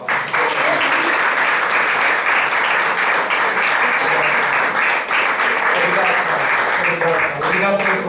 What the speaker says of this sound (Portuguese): Vamos dar a Deus uma salva de palmas.